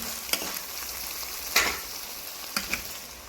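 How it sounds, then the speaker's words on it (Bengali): Chiti crab oil curry (kankrar tel jhal) stirred in a frying pan, giving a faint steady sizzle with a few sharp scraping strokes spread across a few seconds. "একটু নেড়ে নেব কাঁকড়ার তেল ঝাল রেডি হয়ে গেছে"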